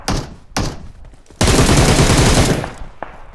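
Loud bursts of automatic gunfire in a video game: two short bursts followed by a sustained volley about a second long and a final single shot, close and dominant.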